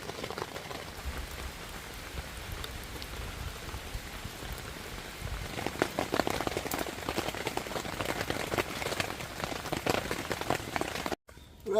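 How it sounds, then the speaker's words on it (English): Heavy rain showers patter on a tent, a dense crackle of drops striking the fabric that grows louder and more intense partway through before a brief dropout, with no talking. "Finally got my tent up in between the heavy rain showers. I think you can still hear it a little bit now."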